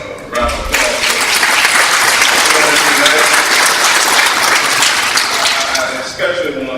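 A town hall audience on community crime breaks into loud, full applause that swells quickly and holds steady, with a voice heard briefly before and after the clapping.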